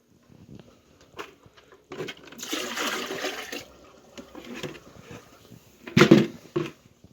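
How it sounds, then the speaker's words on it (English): Water from a bucket splashes and pours out in a rush lasting about two seconds, followed by scattered drips and clunks and a final sharp splash near the end. "But now I can dump out this water bucket."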